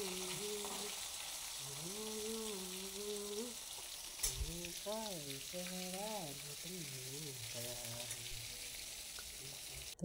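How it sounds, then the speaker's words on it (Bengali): A large native rohu fish, about 5 kg, fries in a pan with a steady, close sizzle throughout, while a voice talks over it. "আর একটা উল্টে পাল্টে ভালো করে ভেজে নিচ্ছি"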